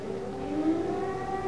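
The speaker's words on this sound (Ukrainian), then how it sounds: "Починається повітряна тривога." An air raid siren wails in Mykolaiv, Ukraine, sounding as a steady, slowly rising tone at a distance across the city.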